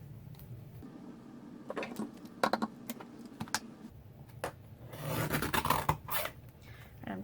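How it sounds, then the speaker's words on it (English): Scissors trim a small strip of green paper for a craft punch, giving soft scattered snips and rasping paper sounds, clustered near the end, under a low background hum. "I'm trimming down that little green strip so that I can fit it into the back of my punch"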